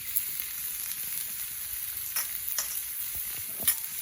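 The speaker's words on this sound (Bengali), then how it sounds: "ভালো করে নেড়ে নেওয়া হচ্ছে।" Capsicum and carrot stir-fry in a pan for Bengali-style chowmein, a steady sizzle broken by a few sharp clicks and scrapes of the spatula, with no voices.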